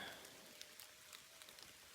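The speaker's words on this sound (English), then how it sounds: "Starting to rain again." Light rain patters steadily on a surface outdoors in Arizona, with scattered sharper drops ticking nearby, soft and continuous throughout.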